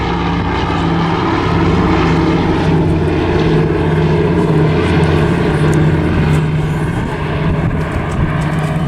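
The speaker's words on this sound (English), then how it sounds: "you see the fighters paired up and ready to come through to the last of the fighter passes" Battle of Britain Memorial Flight fighter planes passing in pairs during an evening airshow display at Southport, a loud, steady propeller engine drone that holds for the whole stretch with no talking.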